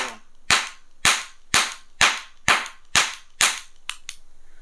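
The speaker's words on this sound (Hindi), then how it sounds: "अब चेक करते हैं इस रिवॉल्वर की" A toy Diwali metal cap gun revolver fires seven sharp, loud cracks at a steady pace of about one every half second, then two smaller pops follow close together, with no voices.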